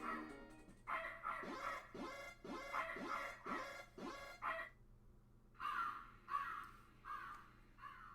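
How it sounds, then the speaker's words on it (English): A crow in a video game caws loudly in a rapid series of harsh calls, then after a short gap another burst of caws follows, clear over quiet background. "Ah, it's just a crow."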